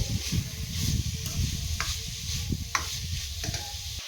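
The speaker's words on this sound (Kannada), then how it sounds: "ಸ್ವಲ್ಪ ಇದು ಹಸಿ ಪೊಂಗೋ ತನಕ ಫ್ರೈ ಮಾಡ್ಕೊಬೇಕು" Grated carrot fries in ghee with a soft sizzle under repeated scraping and stirring strokes from a spoon in the pan, nearby and without talk.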